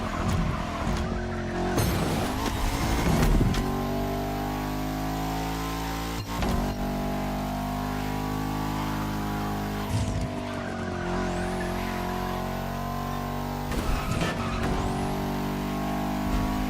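Bugatti hypercar concepts racing in The Crew Motorfest, with engines roaring through rising revs and sharp gear shifts, interrupted by bursts of tire squeal and skidding, loud and steady throughout.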